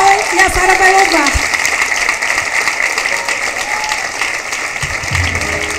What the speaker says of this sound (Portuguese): Peço que vocês aplaudam o nome de Jesus, porque ele merece.